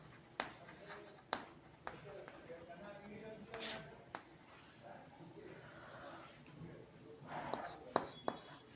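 A pen scratches and taps on a board or paper in short strokes, fairly quiet, while a teacher talks softly in a science lesson.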